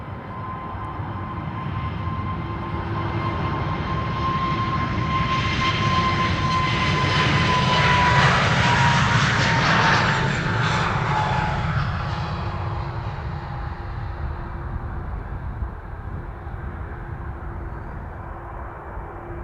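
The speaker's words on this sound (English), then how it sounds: "over here we have Shamrock, flight 605 to Dublin, A321neo." An Aer Lingus Airbus A321neo jet departing Amsterdam Schiphol, its engine roar swelling as it passes close by, peaking midway, then fading into a lingering rumble.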